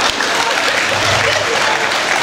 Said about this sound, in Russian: Давайте всем нашим деткам поаплодируем